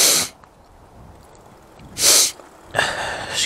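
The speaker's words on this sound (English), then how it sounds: "I can't stop bloody sniffing." A man sniffing hard through his nose three times, sharp separate bursts close up with quiet gaps between, while out on a maiden run of a homemade e-bike.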